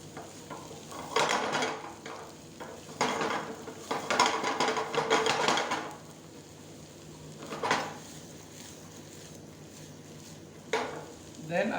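Garlic and onion sautéing in a pan for pasta primavera, with bursts of stirring and clattering utensils over a soft sizzle, loudest in several short stretches and quieter in between.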